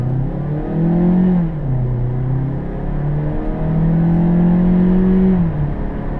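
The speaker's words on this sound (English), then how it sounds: "see how this car really pulls away when it comes to the gear launches" A 2016 Mazda CX-3 2.0 automatic engine revs hard in sport mode and climbs through gears, the pitch rising, dropping at each shift, then rising again, loud and close.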